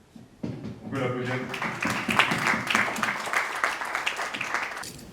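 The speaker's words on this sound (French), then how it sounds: "On peut l'applaudir." After brief talk, an audience at a business meetup breaks into applause for an NGO president, moderate clapping with voices mixed in that fades out near the end.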